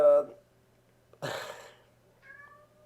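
A house cat meows twice, close and fairly quiet, with a short gap between the calls and a faint higher note trailing at the end.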